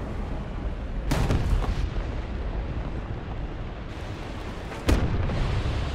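Artillery shells land nearby in War Thunder while a modern Russian light tank drives through combat, two sharp loud explosions about four seconds apart with rumbling tails over steady engine and battle noise.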